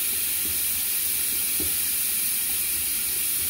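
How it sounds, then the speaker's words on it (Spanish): Flour frying in a pan of chicken and tomato sauce, a steady close sizzle and hiss with a few soft stirring knocks, no talking. "Aquí se la voy a poner en medio para que vaya friéndose y quede espesito."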